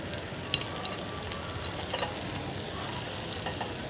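Anchovies and garlic fry in a pan with a steady, close crackling sizzle that holds evenly for a few seconds, with faint pops and no voices.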